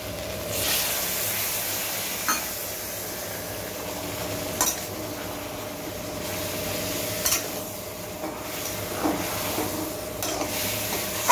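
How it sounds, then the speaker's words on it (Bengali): Milk poured into a pan of fried vegetables for dudh sukto, giving a steady hiss and sizzle with soft stirring scrapes and a few sharp clinks throughout, close and moderately loud. "এখন আমি এর মধ্যে 1 কাপ দুধ দিয়ে দিব"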